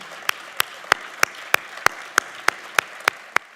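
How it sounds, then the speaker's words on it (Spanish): At a university lecture event at the Complutense, an audience claps in a slow, evenly spaced rhythm, about three crisp claps per second standing out over a low murmur. "para la que voy a pedir un aplauso"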